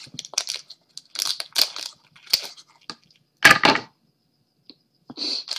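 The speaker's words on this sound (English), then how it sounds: "Scissors." Scissors snip at packaging while unboxing a snack subscription box, giving a series of sharp, crunchy close-up cuts in irregular bursts with short pauses between them.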